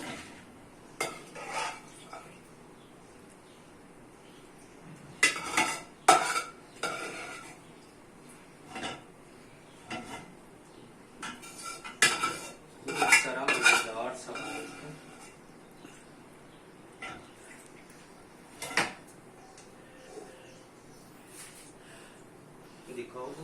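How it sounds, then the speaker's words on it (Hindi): Cooked mutton scooped from a pressure cooker into a wok for gobi gosht: clanks of a metal ladle against pots, scraping and clattering in irregular bursts, with a voice talking between them. "अब इसको प्रेशर कुकर से कढ़ाई में निकाल लेंगे"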